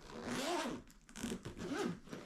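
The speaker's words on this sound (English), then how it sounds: "unzip that" A bowling bag zipper is pulled open in several quick rising and falling strokes, close and clear with brief pauses between pulls and no talking.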